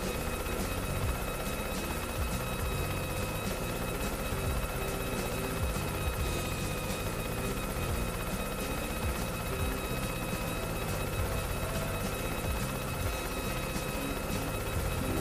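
A helicopter in the video game Yooka-Laylee gives a steady, loud rotor drone that stays constant and unbroken throughout, with no talk over it.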